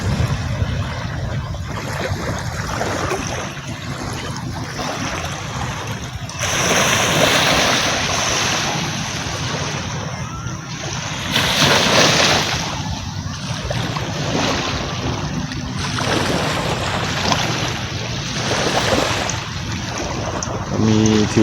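Sea waves wash onto Laem Sing beach in Chanthaburi, a steady loud surf with repeated swelling crashes every few seconds, mixed with wind buffeting the microphone.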